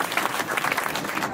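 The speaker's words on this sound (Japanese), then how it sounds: "大きな拍手を、盛大な拍手をお願いします。" Brief, dense applause from a crowd at a tournament's closing for winner Kei Kobayashi, steady clapping throughout the short moment.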